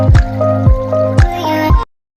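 Water is being filled at a naula, a village spring, with a close, loud series of splashy drips and gurgles that repeat about every half second before stopping abruptly.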